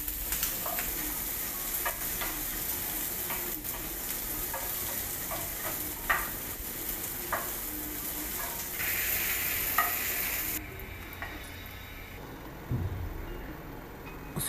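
Vegetables for chicken Manchurian sauté in a hot pan with a continuous loud sizzle, and tossing scrapes and clatters come up now and then through the frying noise.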